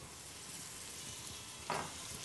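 Ingredients fry with onion in a pan, giving a steady soft sizzle that runs throughout, with a brief louder stirring scrape near the end.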